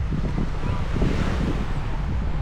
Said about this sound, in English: And the wave is not too aggressive, a little bit calm